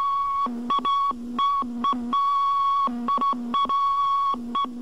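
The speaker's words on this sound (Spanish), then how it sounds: "la misma onda continua está siempre presente y no sale del aire aunque el operador apague el interruptor" A shortwave continuous-wave telegraphy signal sounds as a clear steady tone keyed on and off in rapid Morse dots and dashes, alone with no voices and a faint lower hum beneath each pulse.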